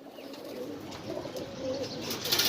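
Pigeons at a pigeon farm in Mirpur, Dhaka, giving soft low coos amid faint chirps and background rustle, fairly quiet and close, with no speech.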